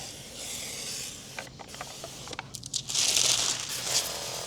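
Hissing bursts from a spray bottle wetting a window before tint film goes on, close and moderately loud, with short spritzes followed by a longer spray burst.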